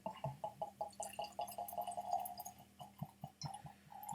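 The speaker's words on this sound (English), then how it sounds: "when I'm pouring it, that makes the right sound. Glug, glug, glug, glug, glug" Weller Antique 107 Kentucky straight bourbon whiskey glugging out of the bottle into a glass, a quick rhythmic run of about a dozen hollow gulps, close and fairly quiet, slowing into a few scattered glugs at the end.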